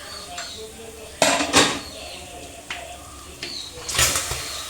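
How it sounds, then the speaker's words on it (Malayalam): A pressure cooker lid is opened after cooking beef for mandi, giving several sharp metallic clanks and scrapes, close and fairly loud, spaced irregularly against quiet kitchen background. "അപ്പം ഞാൻ ദേ കുക്കർ തുറക്കാൻ വേണ്ടി കേട്ടോ"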